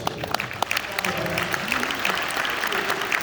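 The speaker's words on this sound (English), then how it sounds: "So please, clap it up for him." Seminar audience at a real estate event clapping in a steady, dense burst of applause that continues for a few seconds, with some voices mixed in beneath.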